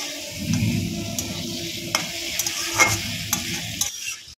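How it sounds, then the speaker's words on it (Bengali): Spice paste with green chillies, drumsticks and potatoes sautéed and stirred in a pan for a rohu fish curry, a steady close sizzle broken by repeated scraping stirs of the spatula. "দিয়ে এটাকে ভালো করে আমি এবারে একটু 5 মিনিট কষাবো"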